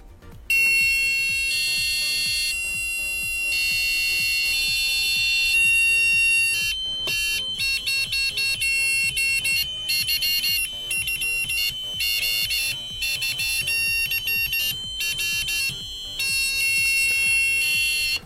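A buzzer on an FPGA development board beeps in shrill, piercing tones, sounding loud and close in rapid pulsing bursts and changing patterns for many seconds, with no voices.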